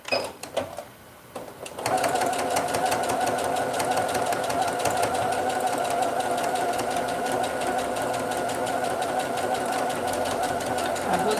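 A domestic sewing machine stitching a cushion with a concealed zipper, backstitching at the start and finish. After a brief start-up it settles into a rapid, steady mechanical whirring and clacking, close and loud, with no talk.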